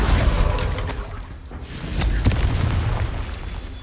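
Confringo spell explosion in the video game Hogwarts Legacy, a deep rumbling boom with crackling burst and debris-like texture, loud and sustained over a few seconds.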